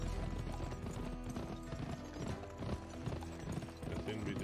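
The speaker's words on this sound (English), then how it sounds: "Because I expect my horse to have to be going faster than it is." A steady rhythmic clip-clop of horse hooves trotting in the video game GUN, mixed with a dense, busy game soundtrack throughout.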